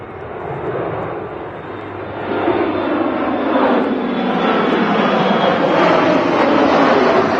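An airliner landing at Manchester Airport in gusty crosswind, its loud broadband engine roar swelling and holding steady throughout as the plane passes close by.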